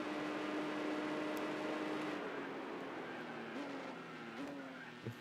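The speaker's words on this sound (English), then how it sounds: "Nissan GTR." A Nissan GTR race car in Gran Turismo 4, its engine holding a steady drone that shifts pitch near the end, with a faint tire skid and moderate loudness throughout.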